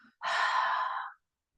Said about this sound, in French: Et on expire, on relâche tout.